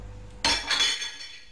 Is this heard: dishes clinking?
yes